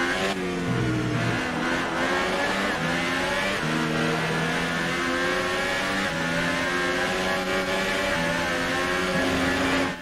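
Formula 1 race cars in the F1 2018 video game screaming at high revs, a continuous whining engine note climbing and dropping through rapid gear shifts, loud and sustained with a second car audible close behind.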